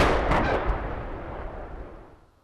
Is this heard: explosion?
yes